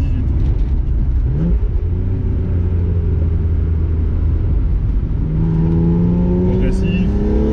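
A BMW E30 325i engine pulls steadily from inside the car, a low continuous rumble with rising tone as it accelerates, while someone talks over it.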